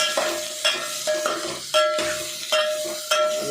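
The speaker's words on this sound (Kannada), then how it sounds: "ಎಣ್ಣೆಗೆ ಸೌತೆಕಾಯಿಗೆ ಸ್ವಲ್ಪ 1 ಸತಿ ಫ್ರೈ ಮಾಡಬೇಕು." Cucumber pieces are frying in oil and being stirred in a pan: a steady sizzle broken by regular spatula scrapes about every half second, close and fairly loud, with no talk.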